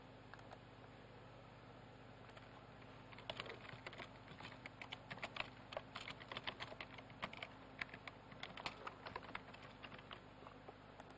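Typing of an account and password on a computer keyboard, starting after a few seconds of quiet hum and continuing as rapid, irregular clicking bursts, close but faint.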